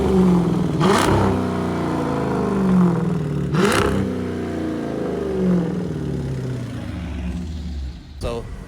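A Dodge Challenger engine revs hard twice in sharp bursts over a steady idle rumble, then settles, ending with a brief clatter.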